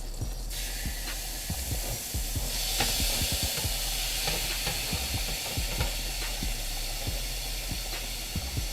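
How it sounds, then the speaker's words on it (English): Shrimp, chicken and sausage for an alfredo land in a hot skillet and sizzle, a steady bright hiss of frying punctuated by scattered pops and light knocks, fairly quiet throughout. "We're going to go ahead and drop it in our skillet"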